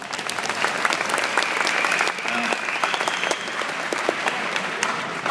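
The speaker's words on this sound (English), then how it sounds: "Give her a round of applause." An audience at a school question-and-answer session with eighth graders and seniors claps for a student's answer, giving dense, steady applause that carries on evenly throughout.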